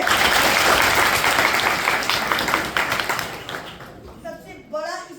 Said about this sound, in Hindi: एक बार सब जोरदार तालियां बजाएं।